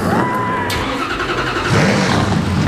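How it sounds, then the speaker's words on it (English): NASCAR Canadian Tire Series stock car engines fire up at a race start, a loud dense growl of several engines revving together under a crowd's noise. "Gentlemen, start your engines."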